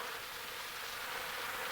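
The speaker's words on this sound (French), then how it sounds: "Les vigoureux mouvements de leurs ailes font évaporer l'eau, ce qui fait descendre la température." Honeybees fan their wings inside the hive to evaporate water and cool it, giving a steady, dense buzzing hum that holds at an even level throughout.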